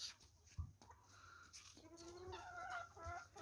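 Village chickens cluck and croon nearby, a few soft thuds among them, their drawn-out calls rising in the second half of the quiet outdoor scene.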